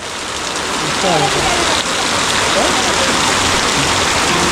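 Heavy monsoon rain pours down in the Konkan countryside, a dense, steady broadband roar of falling water that stays loud and unbroken throughout, with faint talk beneath it.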